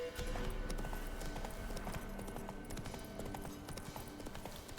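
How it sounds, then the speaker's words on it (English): Horse hooves trot steadily in The Witcher 3: Wild Hunt, a rhythmic clip-clop of a game horse approaching, moderately close and continuous under a dense in-game ambient bed. "I like how Roach is coming to me on his own to pick up the trophies"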